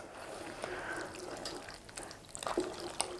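Spaghettios pasta being stirred through tomato sauce in a pot on the stove, soft wet squelching and a few light scraping clicks near the end over a steady low background hiss.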